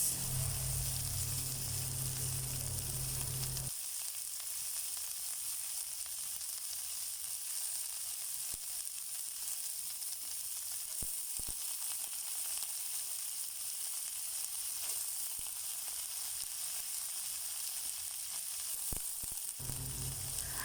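Green beans hit a hot pan with a chicken burger patty for Filipino ginisang gulay, setting off a loud, steady sizzle that holds for the whole span with no talk over it.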